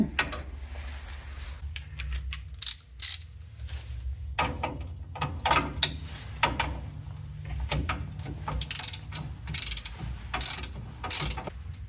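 Socket ratchet working on a Chevrolet C10 truck during a 4/6 lowering job, giving rapid clicking runs in short repeated bursts, close up over a low background hum, with no talking.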